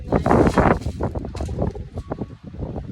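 Gusty wind outdoors in Norway buffets the microphone with a continuous, rough roar that rises and falls throughout, with no clear voices over it.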